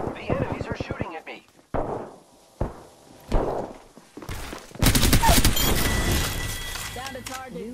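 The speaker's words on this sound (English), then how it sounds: "The enemies are shooting at me." Gunfire in the Apex Legends video game on PS4 Pro, rapid bursts of shots opening the scene, then a loud sustained barrage of overlapping gunshots and impacts, with voices talking over parts of it.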